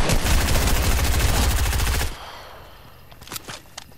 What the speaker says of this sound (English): Some kid just got killed by a guy with a fucking pistol.